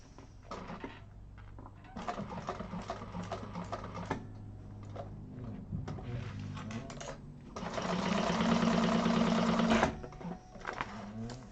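Industrial sewing machine stitching a handbag through tape, short bursts of running stitches in the first half, then a louder sustained run near the end, close by with no talk.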